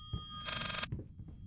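A telephone rings in the horror video game Layers of Fear, one short, fairly faint burst of bright bell ringing that cuts off abruptly in a quiet room.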